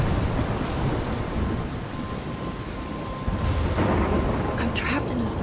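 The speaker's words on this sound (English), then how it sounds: "I'm trapped in a storm?" A thunderstorm with rain in the video game Life Is Strange, near a lighthouse: steady heavy rainfall hisses throughout while low thunder rumbles swell and fade, with faint higher gusts toward the end.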